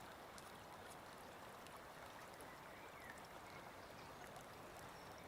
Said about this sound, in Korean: 흐르는 시냇물 소리라는 하나의 대상에 마음을 집중함으로써